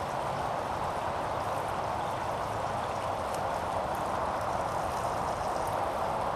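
Gasoline pours steadily into the tank of a Craftsman 3000i inverter generator set on concrete, a continuous close liquid rush that stays even in level throughout, with no talk.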